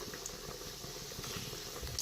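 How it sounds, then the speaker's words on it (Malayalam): Mustard seeds crackle and splutter in hot coconut oil in a pan while sambar is being tempered. The bubbling sizzle is close and continuous, with a few sharper pops, and no talking. "ആ ചട്ടിയിൽ തന്നെ നമുക്ക് വെളിച്ചെണ്ണ ഒഴിച്ചു കൊടുക്കാം കേട്ടോ സാമ്പാർ താളിക്കാനായിട്ട് എണ്ണ ചൂടായിട്ടുണ്ട് നമുക്ക് കടുക് ഇട്ട് കൊടുക്കാം കടുക് പൊട്ടി വരുമ്പോൾ"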